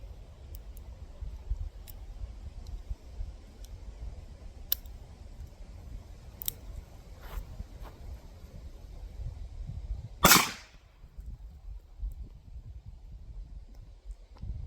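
A single sharp gunshot from a .357 Magnum case reloaded as 9mm (357 Buck), fired outdoors about two-thirds through, loud and abrupt against quiet background noise with a few faint clicks before it.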